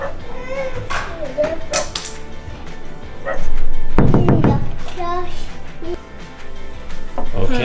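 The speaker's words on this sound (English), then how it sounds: "What are you barking at?" A pet dog barks indoors in a few sharp bursts, mixed with voices that include a child's, with the loudest barking in the middle.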